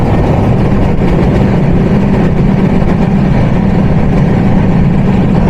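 The Tungipara Express runs at about 100 km/h, heard as a steady, loud, low rumble that continues without a break.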